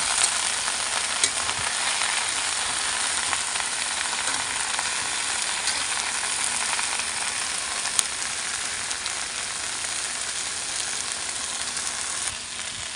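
Korean-style stir-fried noodles in a hot pan hiss in a steady, loud, continuous sizzle that barely changes for the whole stretch, with no voices over it.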